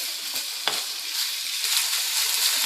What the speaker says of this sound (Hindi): ये मैं इसमें तेज आंच है और मैं इसमें डाल के जल्दी से इसको फ्राई करना है